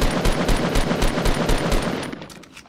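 Rapid automatic gunfire in Fortnite, aimed at an opponent's built platform, sounds as a dense run of sharp repeated shots that rattles steadily, then thins and fades toward the end.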